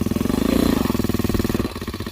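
A homemade tractor built from a motorcycle engine in Korat, Thailand, runs close by with a loud, rapid, even thumping beat that eases slightly toward the end.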